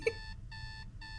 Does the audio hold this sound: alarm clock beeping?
yes